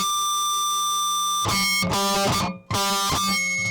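A sustained bell-like guitar harmonic rings alone, followed by a few brighter struck tones with a brief dropout between them.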